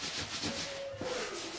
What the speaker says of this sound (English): we're just wiping down all of the vertical boosters in the front of the pad, just getting any of the dirt and grime off those